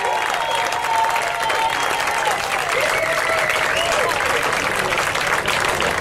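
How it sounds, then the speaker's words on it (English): An audience applauds Johnny Ward during a live show at the Botley Hill Farmhouse, with dense, steady clapping that fills the room throughout and no break. "Give an applause for Johnny Wall"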